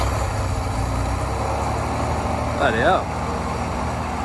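A cheap Holden panel van engine runs at a steady low idle, a constant close rumble with a brief swell near the end, while a man briefly exclaims over it.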